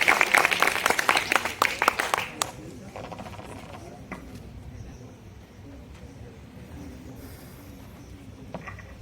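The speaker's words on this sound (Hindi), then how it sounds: "एक बार जोरदार तालियां बजा दीजिए।" Audience claps loudly at the close of an Independence Day valediction speech, a short burst of about two seconds that breaks off into a quieter room with faint murmur and scattered small sounds.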